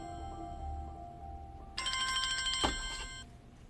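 A telephone rings indoors, a bright electronic bell tone that starts partway through and sounds fairly faint against a quiet room, with a soft thud near the end.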